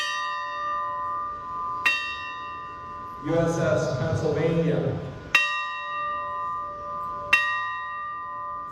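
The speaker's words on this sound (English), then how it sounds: "The ring of this bell is a sign and a sound of remembrance." A memorial bell for Pearl Harbor remembrance at the Palm Springs Air Museum rings three clear, resonant strikes with long ringing decay, and someone speaks briefly between the first and second strikes.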